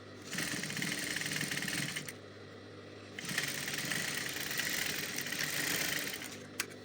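A sewing machine runs in two steady stretches of fast stitching, broken by a brief pause, as it sews a band onto an ankara fabric cup sleeve. It is moderately quiet and close, with no talking.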